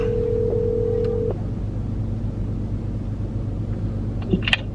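An outgoing phone call placed by accident from inside a moving car: a steady electronic calling tone that holds for just over a second, then stops, over constant low road and engine rumble, with a couple of faint clicks afterward.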